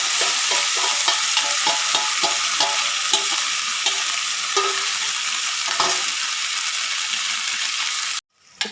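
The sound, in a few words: coarsely ground spice paste frying in hot oil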